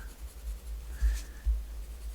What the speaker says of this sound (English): I'm just going to continue placing that graphite down in these intersecting areas